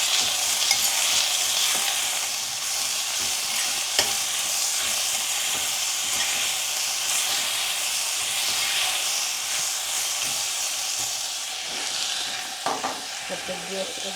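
Food stirred and frying in a pan with a little salt for a Gujarati dish: a steady, close, loud sizzle runs throughout, with occasional spoon clicks and scrapes against the pan and no talking.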